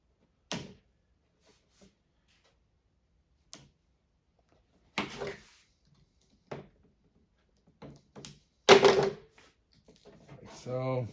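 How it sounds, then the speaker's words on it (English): Plastic coating on a fiber optic cable being popped open during mid-span access: scattered sharp clicks and snaps, close and isolated, ending in a denser crackling burst and a brief rasp. "you can pop this plastic coating open"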